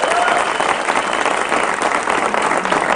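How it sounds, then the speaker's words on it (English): Live television studio audience applauding, a dense, steady wash of clapping that stays loud and even for the whole stretch, with a faint voice briefly audible beneath it. "I completely second those who were just applauding"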